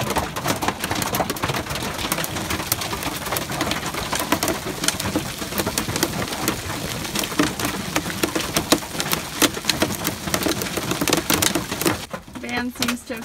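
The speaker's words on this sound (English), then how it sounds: "That was a short but intense hailstorm." Dense, constant clatter of hailstones pounding the metal roof of a camper van, loud and unbroken for most of the clip before easing off abruptly near the end.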